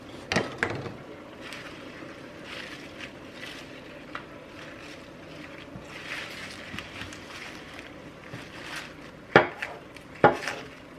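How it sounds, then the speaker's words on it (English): Knife chopping lettuce on a board: scattered soft cuts and taps, with a couple of sharper knocks near the end, fairly faint against a quiet kitchen background. "while I cut up my lettuce"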